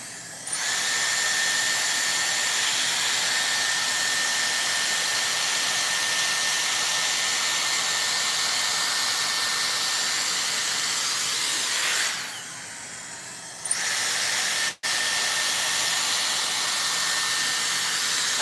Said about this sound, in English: I love the Dyson because it just dries the hair so fast